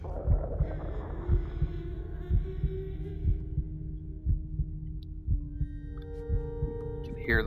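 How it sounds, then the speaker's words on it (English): Deep, steady heartbeat thuds pulse over a low hum, with thin electronic tones drifting above, from the video game Little Nightmares. "Hear the heartbeat, everything."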